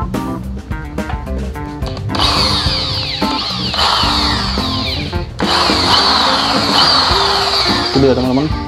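A Bosch GSB 550 electric drill whirs loudly and continuously close by, its motor pitch shifting slightly as it runs, after a brief start-up.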